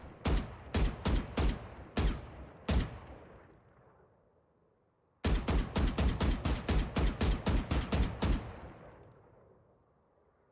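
Valorant in-game gunfire from tap-shooting: two bursts of sharp, loud single shots in quick rhythm, first about five spaced taps, then a pause and a faster run of roughly a dozen, each ringing out with decaying tails.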